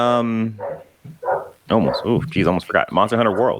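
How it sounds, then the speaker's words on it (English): A pet dog barks briefly at the very start in a home setting, then someone talks steadily over an online voice chat about video games. "That was my dog."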